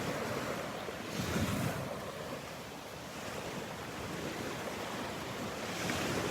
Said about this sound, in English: It's actually a sandbar where those waves are breaking.